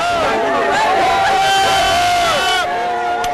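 A crowd of miners in Congo cheers and shouts in a dense, loud din of voices with scattered whoops and high calls.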